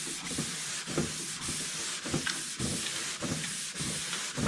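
Steady back-and-forth sanding of a Z28 car body panel with a medium-soft sanding block, rhythmic rasping strokes repeating about every half second, close and continuous with no talking.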